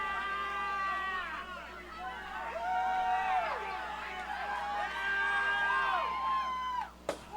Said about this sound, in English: Crowd is getting into it now.